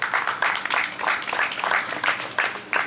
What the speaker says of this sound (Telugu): ఒకసారి గట్టిగా క్లాప్స్ కొడదాం